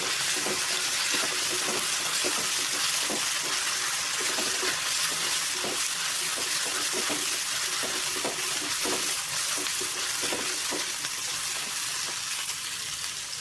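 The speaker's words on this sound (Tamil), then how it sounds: "ஒரு ரெண்டு நிமிஷம் மட்டும் வெங்காயத்தை வணக்கிக்கோங்க போதும்" Onions sautéing in a pan for a weight-loss dish, a loud, dense, steady sizzle like rushing hiss, with frequent light spatula scrapes and taps scattered throughout, close and without voices.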